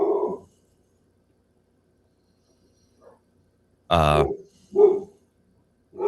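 A single sharp dog bark rings out, followed by a couple of shorter yelps, with brief talk at the start and quiet gaps between.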